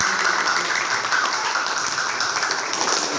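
Students in a ninth-grade mathematics class clap together for a few seconds, a dense, steady patter of hands filling the room.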